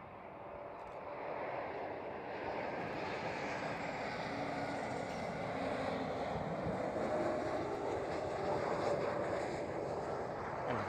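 A British Airways City Flyer Embraer jet at Schiphol gives a continuous roaring rumble that swells slightly and holds steady, mixed with wind noise on the microphone.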